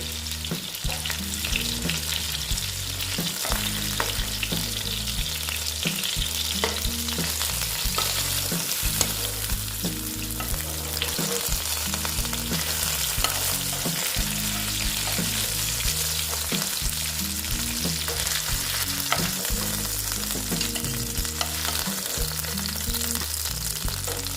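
Boal fish sizzles and crackles steadily in hot oil, a continuous loud frying hiss, with occasional clinks and scrapes of a utensil.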